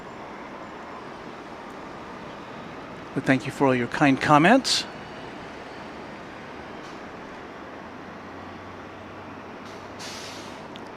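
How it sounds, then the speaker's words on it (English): Steady bus and road traffic noise near LAX airport, a constant low rumble of passing vehicles throughout, with a person talking briefly over it partway through. "You just have to settle for bus noise and traffic and such."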